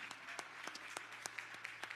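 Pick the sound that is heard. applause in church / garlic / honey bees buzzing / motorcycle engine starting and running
applause in church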